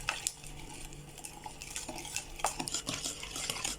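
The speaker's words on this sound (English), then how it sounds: "Start off by creaming together the butter and the sugar." Butter, sugar, eggs and vanilla are beaten together in a bowl, giving close, irregular scraping and clinking of a utensil against the bowl, a busy rhythm of small knocks with no speech.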